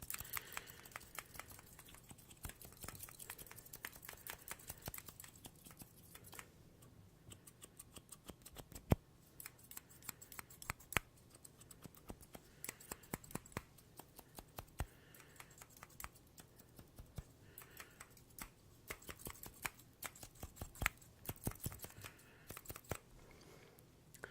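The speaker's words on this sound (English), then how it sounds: "those are the 4 scissors, and we'll spend a little more time making sounds with them" Quiet, rapid scissors snips repeat steadily for a long stretch, crisp little cuts close to the ear with a few sharper clicks.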